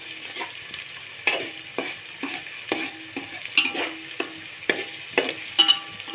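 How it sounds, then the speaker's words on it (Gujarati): Spoon stirring chopped onions in a pan over low heat, with repeated scraping strokes in an irregular rhythm over a steady, close background sizzle. "અને ચમચે હલાવતા દઈશું"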